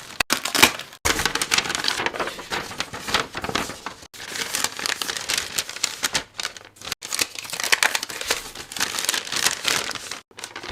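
Paper crinkles and rustles up close in repeated bursts, with brief pauses between handling sounds and no talking.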